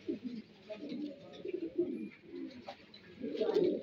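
Young pigeons or doves cooing softly, low throaty coos repeating steadily and close by for several seconds, with a little faint chirping above them.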